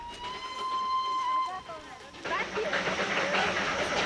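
Darjeeling Himalayan Railway locomotive: a clear sustained whistle tone fades, then a burst of loud steam hiss and rumbling chuffs takes over, close and noisy.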